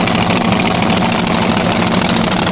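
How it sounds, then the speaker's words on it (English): The Lambada 4 pulling tractor, powered by an 8-cylinder Chevy 572 engine, roars at a steady low rumble at an indoor tractor pulling event in Rotterdam, loud and continuous with no voices. "Lambada's powered by this 8-cylinder Chevy 572"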